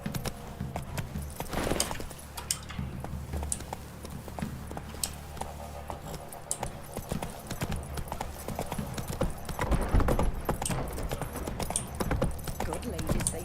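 Geralt's horse Roach galloping in The Witcher 3, steady rapid hoofbeats continuing throughout over a busy background, with a voice speaking at times.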